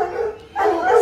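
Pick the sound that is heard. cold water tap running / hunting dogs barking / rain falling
hunting dogs barking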